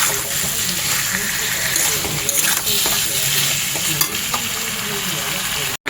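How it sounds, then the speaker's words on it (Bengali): Water poured into fish curry in a hot wok sets off loud, close sizzling and bubbling that runs steadily throughout before cutting off sharply at the end. "এবার আমি জল ঢেলে দেবো।"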